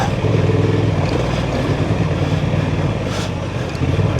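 A 2024 Honda Transalp 750 motorcycle thrums steadily in second gear while riding off-road at an OHV trail park, a close, loud, even engine drone with wind rush and a brief surge near the end.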